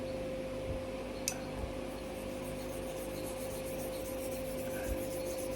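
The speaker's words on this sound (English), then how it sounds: "This is just a simple honing process." A straight razor is honed on a flat stone with a thick slurry, giving a soft, steady wet rubbing sound with faint strokes, close but quiet, over a constant background hum.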